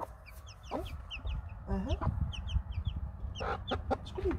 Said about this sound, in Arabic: واحد العتوقة عندها 3 د وليدات معاها